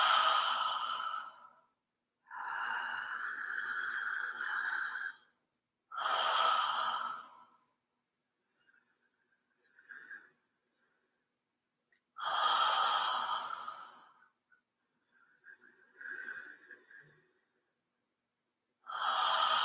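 Deep breaths drawn in and out through the mouth, slow and close, in long airy swells separated by silent pauses, with a few fainter shorter breaths between.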